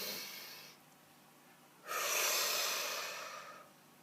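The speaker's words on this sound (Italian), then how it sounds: "facciamo un bel respiro profondo" One person takes slow, deep breaths before a tarot reading, a soft exhale followed by a longer, louder airy inhale that fades away. It sounds close and quiet, with no talk.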